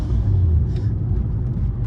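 A BMW M roadster's engine rumbles with a deep, steady low drone from inside the cabin, loud and continuous with faint road noise.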